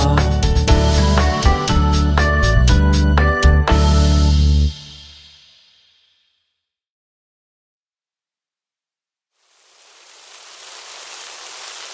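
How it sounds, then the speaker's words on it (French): Steady, even hiss of rain fades in and holds after a short burst of bright melodic notes ends and a few seconds of silence pass. "Oh, il pleut!"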